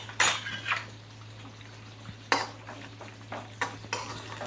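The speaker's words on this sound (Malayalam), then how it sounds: "ആദ്യം നമുക്ക് ഈ കശുവണ്ടിപ്പരിപ്പ് ഒന്ന് വറുത്തെടുക്കാവേ" Cashew nuts fried in oil in a pan for a Kerala payasam, with soft sizzling under intermittent sharp scrapes and clinks of a metal spoon stirring against the pan, close and fairly quiet, with a low steady hum behind.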